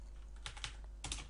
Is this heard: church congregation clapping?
no